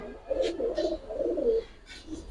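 A pigeon, a high-flyer kept among fancy and Giribaz breeds, gives soft throaty coos in two short bouts separated by a pause, close and clear with faint background noise.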